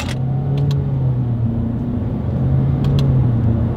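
A 2020 Honda HR-V with a CVT accelerates during a paddle shifter test, its steady engine drone and low rumble holding at a near, constant level, with a couple of faint clicks above.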